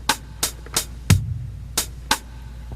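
A small drum machine ticks out a relaxed swing shuffle, two hits per beat with the middle triplet left out, its crisp clicks and a low bass-drum thump sounding close and alone.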